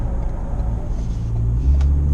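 A Ford Ranger Wildtrak pickup rounds a bend on the road, a steady low engine and road rumble that swells slightly louder toward the end, heard from inside the cab.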